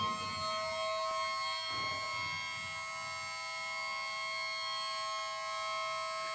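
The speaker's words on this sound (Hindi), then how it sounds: "कुछ सायरन की आवाज़ आ रही है" A distant siren holds a steady, droning wail with sustained tones throughout, fairly faint, with soft background noise and no talking.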